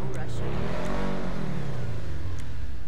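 A customised car in GTA 5 Online fitted with side-exit competition exhaust, its engine revving and swelling loudly up and down while someone talks over it.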